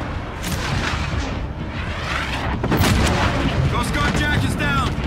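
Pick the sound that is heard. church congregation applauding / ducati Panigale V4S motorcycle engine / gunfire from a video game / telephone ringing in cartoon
gunfire from a video game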